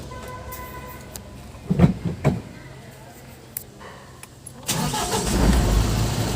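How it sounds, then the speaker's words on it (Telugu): A motorbike engine starting: a couple of short cranking bursts, then the engine catches and settles into a steady, fairly loud idle that continues to the end. "బండి స్టార్ట్ చేశాను."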